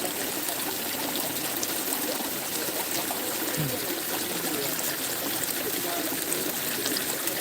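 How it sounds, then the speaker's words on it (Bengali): Rainwater pouring out of a drain during a rainstorm makes a continuous, fairly close rushing trickle, like a small stream, steady and unbroken with no voices. "এই যে ড্রেন দিয়ে আসছে সব জল দেখে নাও ড্রেন দিয়ে আসছে"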